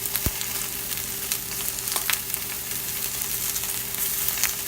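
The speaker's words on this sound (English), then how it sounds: "That's the sound of good steak cooking." Steaks searing in a hot dry pan with no oil, giving a steady, close sizzle throughout with occasional sharper pops and crackles, no talking.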